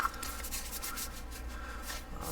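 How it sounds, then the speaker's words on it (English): Quiet, steady rubbing and scrubbing as knife parts are cleaned with isopropyl alcohol, a soft continuous friction sound close to the microphone with no voices. "I'm going to give them just a final wash, rub, whatever, just to make sure they're nice and clean."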